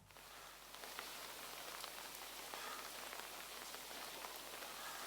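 Steady rain drums on an umbrella held during heavy monsoon rain in the Malabar region, a dense, close patter of drops that starts faintly and then continues evenly and fairly loud.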